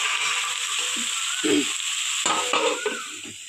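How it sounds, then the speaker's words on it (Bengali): Onion frying slowly in a pan makes a steady close sizzle, overlaid by several bursts of spatula scraping and stirring against the pan. "আস্তে আস্তে পেঁয়াজ আস্তে করে দিয়ে একটু ভেজে ভেজে নেবো"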